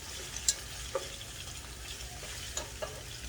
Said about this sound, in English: Shallot, ginger, garlic, and shiitake mushroom. Medium heat or medium low. We want to stir a few minutes